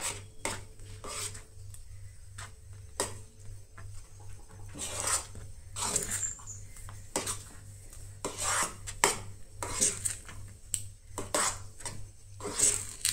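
Leftover rice dessert being mixed with butter in a pan: a spoon scrapes and clinks against the metal in irregular strokes, close and fairly quiet, with no talking.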